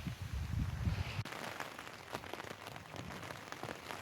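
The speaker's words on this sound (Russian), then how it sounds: "Дождик что-то зарядил." Steady rain patters on a tent pitched near the Magadan seaside, a dense, close crackle of drops on fabric that follows a brief low rumble at the start, with no voices.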